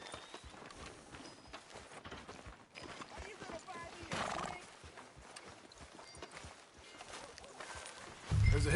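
A horse clip-clops along at a walk with a neigh partway through in Red Dead Redemption II, hoofbeats steady under background sound, with a voice speaking over it.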